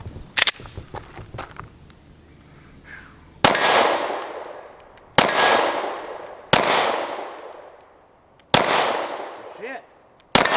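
A Smith & Wesson 2.0 3.6 pistol fires five loud, sharp shots at irregular intervals at freshly painted steel targets on an outdoor range, each crack trailing off in a long echo, with a few faint clicks beforehand.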